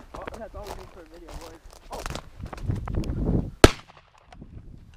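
A single sharp, loud gunshot rings out during a rabbit hunt in the snow, cutting through people talking and crunching movement, followed by a short fading tail and quiet murmurs.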